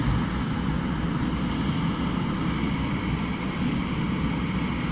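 A plane approaching East Midlands Airport roars as a steady, broad engine drone, loud and constant, with a low rumble and a faint high whine from the engines.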